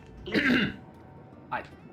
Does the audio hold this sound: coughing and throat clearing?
yes